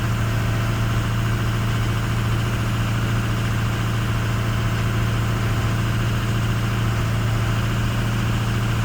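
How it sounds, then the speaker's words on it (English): A 6.0 diesel engine idles with a loud, steady drone and a low hum throughout; no clear change in engine speed stands out over the continuous running. "Ooh, it's blipping something. That's definitely not how the fan is supposed to operate."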